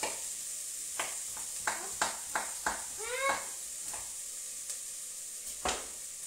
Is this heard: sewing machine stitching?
no